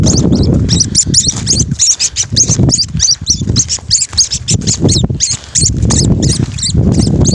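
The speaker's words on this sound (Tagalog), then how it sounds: "Tawag dito sa ibon na ito mga katambay yung ibon na uwis." Young uwis birds chirp close up, a dense stream of high, rapid squeaky calls that repeat without pause over a low rustling, scratchy background.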